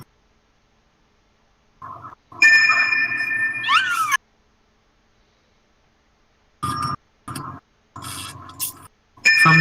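A cat in the video game Stray meows in several short bursts, loud and close, separated by silence, with electronic-sounding tones mixed in and no talking.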